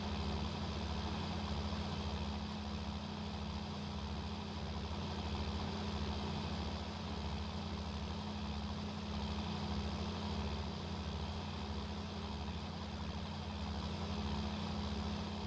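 A worn, rusty combine harvester in a farming game runs steadily, its low engine drone holding at an even idle throughout with a faint regular pulse and no talk.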